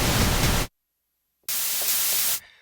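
A Groove Synthesis 3rd Wave synthesizer puts out its noise waveform: two bursts of bright white hiss with a short silent gap between them, steady and fairly loud.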